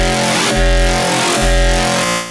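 Riddim bass synth with comb filtering and delay feedback, heavy buzzing tones pulsing in two loud swells with a thick low drone, no voices.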